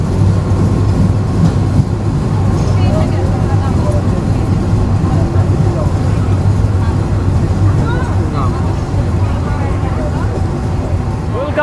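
The Rupsha Express intercity train rolls into Ishwardi Junction station, a loud continuous rumble and clatter of wheels on rails from inside the carriage, with voices talking throughout.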